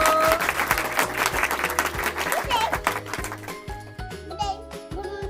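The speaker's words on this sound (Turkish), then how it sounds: "Alkışla kendini" A young boy claps for himself during a word game at home, a few hand claps mixed with dense vocal activity and playful chatter, fairly close and busy throughout.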